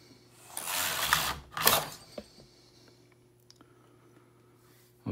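A hand-cranked sock knitting machine knitting a row: two bursts of rapid mechanical clatter and ratcheting, followed by a few sparse clicks in near silence.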